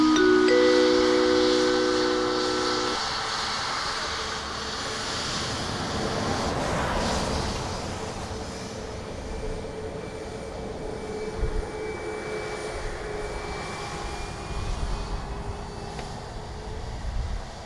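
A fixed-wing aircraft lands on runway 28 left at Dublin Airport, a loud whining engine roar that swells then fades into a long hissing rumble as it rolls down the runway.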